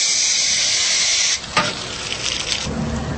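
A steady, loud hiss of water spray rinses coil cleaner off an air-conditioner coil, then cuts back after about a second and a half to a quieter, uneven splashing and trickle.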